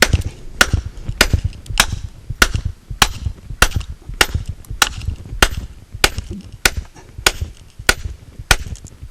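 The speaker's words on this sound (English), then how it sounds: "use the hammer to just get in the crack" A hammer strikes into a crack in a block repeatedly in a steady rhythm, about a dozen sharp, loud metallic blows close by.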